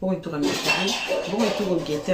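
Pots and pans clatter and clink outside, loud and continuous, with cutlery-like metallic rattling under someone speaking French throughout.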